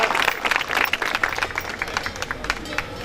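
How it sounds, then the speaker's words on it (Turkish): Crowd at a Bodrum gathering about a wind power plant applauding, brisk clapping that starts dense and loud, then fades into lighter scattered claps amid murmuring. "hep beraber bir alkışlar mısınız arkadaşlar? Alkışlayalım"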